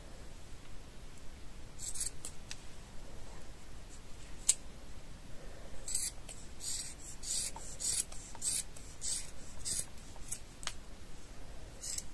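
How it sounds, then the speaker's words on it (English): Sharp scissors snip through macrame yarn while trimming an angel ornament's hair, a series of quick, crisp close-up cuts repeating in short bursts over a faint rustling background. "Sharp scissors would be very helpful."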